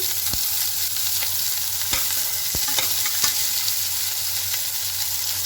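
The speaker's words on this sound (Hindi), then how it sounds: "हमारा ऑयल गर्म हो चुका है। अब हम इसमें प्याज डालेंगे" Onions and garlic fry in hot oil in a close, loud sizzle, with scattered clacks and scrapes of stirring over the steady hiss and no talking.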